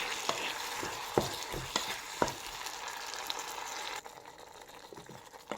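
Tomato masala for a cauliflower gravy is sautéed in a pan: a steady close sizzle with several sharp scraping stir strokes in the first seconds, then a quieter fry.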